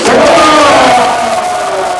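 A loud, dense crowd cheers and shouts close around a musician after a public award in Burkina Faso, with a sustained roar and wavering voices that ease off slightly near the end.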